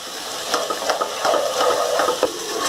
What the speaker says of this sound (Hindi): इसकी भुनाई करेंगे।